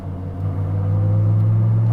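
Engine of a hypercar idling and rising slightly as the driver dips the manual clutch for a gear change, a steady deep rumble heard from the cabin, swelling a little over the second half with no talk.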